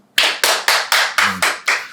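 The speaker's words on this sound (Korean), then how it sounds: "박수!" Rhythmic clapping in unison, eight loud, crisp claps at an even, brisk pace, close and alone with no talk, each clap ringing briefly before the next.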